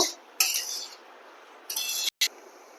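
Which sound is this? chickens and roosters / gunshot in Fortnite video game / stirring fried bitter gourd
stirring fried bitter gourd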